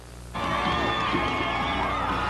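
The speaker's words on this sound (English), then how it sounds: "The small, enthusiastic crowd whooped and hollered" A small, enthusiastic crowd at a Dukakis campaign event in Sacramento breaks into sudden whooping and hollering, the cheers swelling loudly and holding steady.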